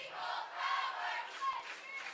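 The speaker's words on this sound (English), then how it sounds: "Crowd trying to get into it a little bit." A crowd cheers at a high school football game between Port Townsend and Klahowya, with a brief sustained roar of many voices at moderate distance that holds steady for a couple of seconds.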